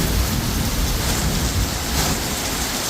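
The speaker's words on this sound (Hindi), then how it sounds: "भाई साहब इतनी भयंकर बारिश हो रही है ना, अभी शब्दों में बयान नहीं कर सकता हूँ।" Heavy rain pours down steadily over a village, a loud, dense, continuous roar of water with no breaks and no talking.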